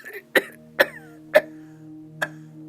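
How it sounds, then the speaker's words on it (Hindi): An old man coughs in a sparse, close sequence of four sharp, throaty bursts spaced about half a second to nearly a second apart, the last weaker, over a faint steady background drone. "तभी बूढ़ा खांसा।"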